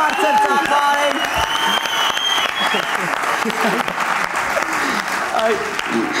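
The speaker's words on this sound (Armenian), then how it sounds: "Բրավո, Իննա Խոջամիրյան, բրավո, բարձր, շատ բարձր ծափարեն։" Audience at a comedy league final breaking into loud, sustained applause, dense clapping and some cheering filling the room while a voice speaks over it.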